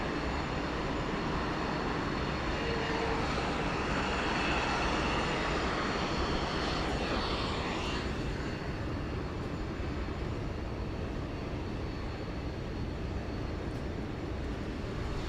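A Jetstar airliner lands on runway 34 left at Sydney Airport, its engine roar steady and loud and broadband across the whole stretch, with no voices over it.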